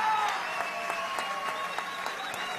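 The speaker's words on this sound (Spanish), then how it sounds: "¿no lo van a aplaudir, vale?" An audience applauds newly sworn-in magistrates at a court session, steady moderate clapping from a crowd that continues throughout without a break.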